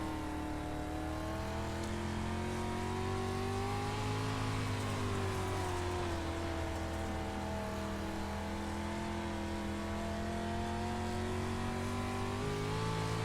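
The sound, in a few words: dirt race car engines in iRacing video game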